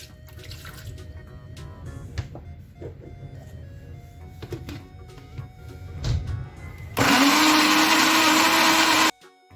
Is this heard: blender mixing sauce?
yes